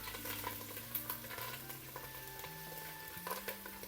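Chopped ginger and two sprigs of curry leaves fry in a hot pan, making a continuous bright sizzle and spatter, fairly quiet and close, with a faint background tone running underneath.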